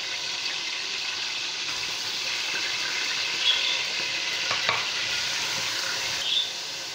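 Onions frying in a pan, a steady, bright hiss of sizzling oil up close with a couple of brief stirring scrapes and no talk.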